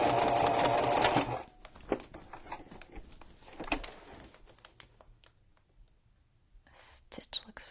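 A sewing machine stitching in reverse, back and forth along the edge of a fabric journal cover, a dense close mechanical whir for about a second, followed by scattered clicks and handling sounds and a few short whirring bursts toward the end.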